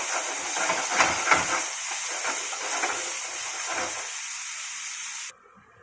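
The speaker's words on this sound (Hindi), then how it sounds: "हाई फ्लेम रे फ्राई करेंगे।" Vegetables fry on a high flame for idli, giving a steady loud hiss with soft crackling bursts throughout that cuts off abruptly near the end.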